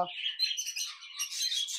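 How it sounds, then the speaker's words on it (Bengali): Small green and white birds at a park in Memari chirp in quick, high, twittering bursts, close and continuous, with nothing else audible. "এখানে পাখি, তো কি কি পাখি আছে একবার দেখা যাক"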